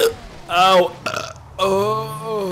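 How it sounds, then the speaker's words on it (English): A loud, drawn-out burp cut by a hiccup, followed by a voice exclaiming and a second long, croaking burp close up. "That was a hiccup burp fart."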